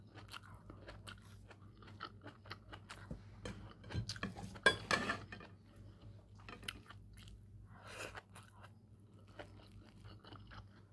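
Someone eating a meal of grilled fish, with faint crunchy bites and chewing, occasional scrapes of utensils on a dish, quiet and close with no talking.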